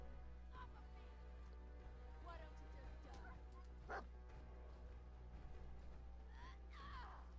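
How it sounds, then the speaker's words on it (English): Dog yelping and whimpering in Fallout 4 while it is attacked by raiders, several short high cries scattered over steady game background noise. "No, he's hitting my dog."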